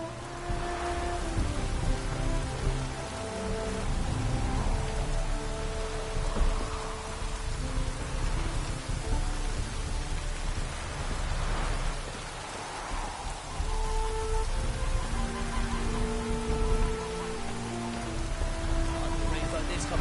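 Steady rain pours in a video game, a continuous hiss of drops on surfaces with faint distant thunder rumbling underneath, while background game music and ambience carry on.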